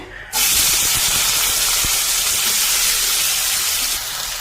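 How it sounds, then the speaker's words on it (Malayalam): Onions are dropped into hot oil, bursting into a loud, close sizzling hiss that holds steady for several seconds and eases slightly near the end. "അപ്പൊ അതാ ഞാൻ ഉള്ളി ഇട്ട് കൊടുക്കണേ."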